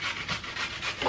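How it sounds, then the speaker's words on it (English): Ginger root grated by hand on a cheese grater for Sierra Leonean fishballs, giving a close, steady series of raspy rubbing strokes in an even back-and-forth rhythm, with no talking. "just take the ginger and use cheese grater or something, and I'm just gonna do it inside here"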